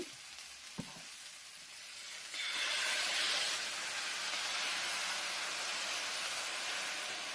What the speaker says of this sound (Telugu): ఇలా పెనమంతా స్ప్రెడ్ చేసుకున్న తర్వాత మనము దోశ పిండి దీని మీద వేసుకోవాలి